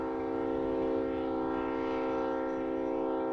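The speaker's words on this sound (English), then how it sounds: "This is the Tropicana Juice Train, loaded with orange juice" A freight train loaded with orange juice sounds its horn in a steady, sustained chord over a low rumble, close and constant with no pauses.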